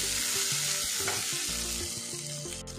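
Eggplant frying in a pan while being stirred, a bright continuous sizzle with scraping utensil strokes in a steady rhythm, close and loud.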